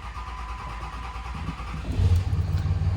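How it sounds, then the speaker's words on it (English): Farm engine turning over while its fuel pump loses prime, a close rhythmic cranking chug that grows louder and rougher toward the end without catching. "The fuel pump is losing prime, and it has to crank and crank and crank until it regains the prime"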